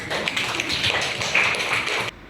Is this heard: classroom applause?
yes